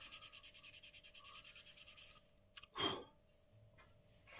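Rhythmic hand sanding of primer on a Fiat 500 widebody panel, a steady series of close, even rasping strokes that stop after about two seconds, followed by a brief rustle and a soft burst of handling noise.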